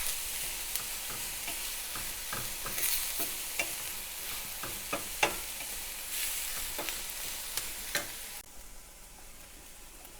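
Chopped green pepper and softened onions sizzle steadily in a pan for chili, with repeated scrapes and taps of a spoon as they are stirred. A constant mid-level fry runs underneath throughout.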